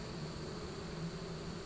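Honeybees in a horizontal hive opened for inspection, a steady close hum of many wings, faint and continuous.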